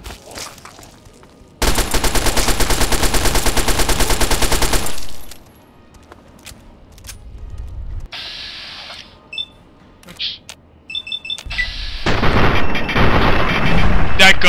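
Rapid automatic gunfire from a new gun in the video game Fallout 3: a loud sustained burst of rattling shots, then quieter mechanical clicks and tones before another dense, loud stretch of firing.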